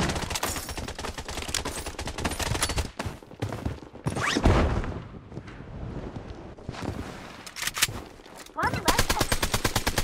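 Rapid automatic gunfire rattles in long bursts during a Blood Strike firefight, broken by brief pauses, with single shots, footsteps and a voice calling out over the shooting.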